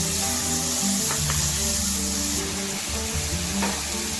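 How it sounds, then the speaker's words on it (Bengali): Tamarind water poured into a hot pan of fried rui fish for a Bengali sour tamarind fish curry, giving a steady close sizzle and hiss with light spattering throughout. "দিয়ে দেব তেঁতুলের জল।"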